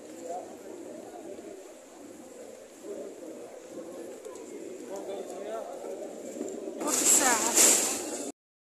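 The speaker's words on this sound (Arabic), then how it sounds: "دابا انا غاديه عند الحمام، عجبني الحمام" Pigeons coo in Mecca, a soft, repeated cooing heard under people talking, growing louder and busier near the end.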